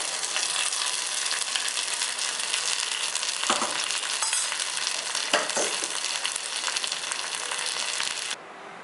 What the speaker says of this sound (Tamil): தேங்காயை வறுத்து போடணும். நல்லா வறுக்கணும்.